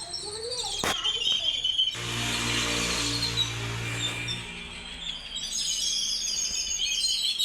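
Sparrows chirp in the morning around a house, a steady stream of high, busy chattering calls. A person speaks partway through, and the chirping continues around the voice.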